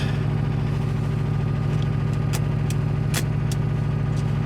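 A Porsche 356 engine runs steadily at idle, a close, even low throb with a regular pulse, broken by a few brief sharp clicks and rattles from the car.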